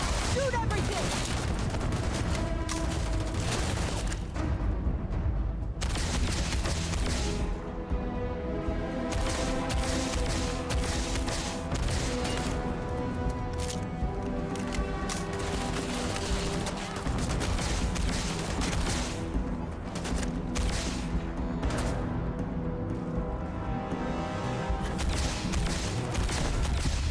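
Dense, relentless gunfire from a firefight in the video game Starfield runs at full loudness throughout, with overlapping bursts, rapid automatic fire and crashes, and voices shouting beneath the shooting.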